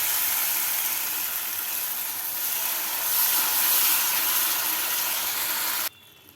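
Masala for paneer do pyaza hisses steadily in the pan as a little water is poured in, a dense broadband sizzle that swells midway and cuts off abruptly near the end.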